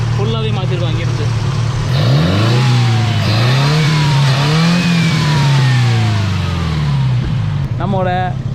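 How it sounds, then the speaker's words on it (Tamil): A Fiat 118 4x4 with a modified exhaust and altered fuel flow idles loudly nearby, then revs up and down in several rising and falling sweeps before settling back to a rough idle. "ஸோ இதுதான் நம்மளோட இப்போதைக்கு நாங்கள் எக்ஸாஸ்ட் மாடிஃபை பண்ணது."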